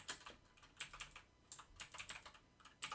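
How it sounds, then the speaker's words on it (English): Rapid keystrokes on a computer keyboard fill the moment with fairly steady, light clicking, close and moderately quiet, and no voices are heard. "then we are going to type in the rest of the invitation"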